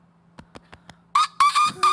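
A person imitating a rooster crowing, four loud voiced bursts in quick succession after a few soft taps, close and clear, on a lively Indonesian television talk show stage.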